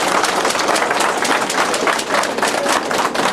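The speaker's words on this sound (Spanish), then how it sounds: "Muy bien, fuertes palmas." Wedding guests applaud loudly and densely at a civil ceremony, and the many hands clapping keep up a constant close roar.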